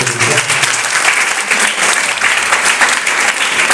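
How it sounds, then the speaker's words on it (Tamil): Audience at a college event applauding student speakers: dense, steady clapping throughout, loud and close, with a brief low voice at the start. "தயவு செய்து கைத்தட்டி உற்சாகப்படுத்துமாறு அன்போடு கேட்டுக்கொள்கிறேன்."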